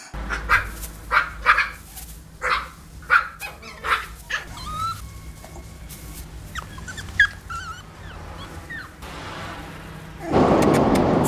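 A dog in the 2001 film Trouble Every Day barks in a run of sharp, loud repeated barks, then shifts to scattered yips and whimpers, with a burst of noise near the end.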